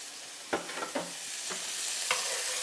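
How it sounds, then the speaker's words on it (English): Garlic and anchovies sizzle in a pan over medium heat, with a steady frying hiss broken by several distinct knocks and scrapes of stirring. "I am going to turn down my heat to medium, and I am going to add the garlic and the anchovies"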